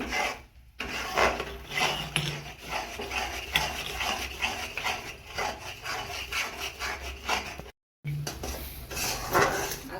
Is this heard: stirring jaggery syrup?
yes